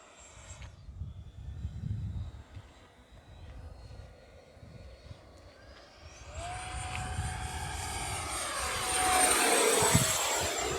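An E-flite F-16 Falcon 80mm electric ducted-fan RC jet with a thrust reverse mod flies past, its whine rising from a distant hum to a loud, close whoosh and roar near the end.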